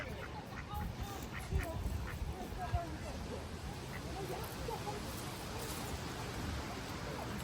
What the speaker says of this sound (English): Whoa, look at this green head duck.